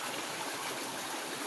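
The Laya River in Candulawan, Talisay City, Cebu flows close by, a steady broadband rush of water streaming without break, fairly loud and heard alone.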